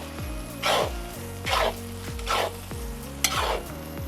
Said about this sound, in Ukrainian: Гарно все перемішую.